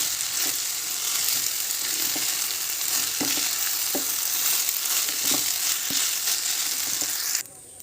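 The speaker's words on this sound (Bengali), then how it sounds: "এবার চালটাকে আমি ভালোভাবে ভেজে নেবো" Rice for basanti pulao fries in a pan, a steady crackling sizzle with scattered soft taps of stirring, continuous and close, cutting off just before the end.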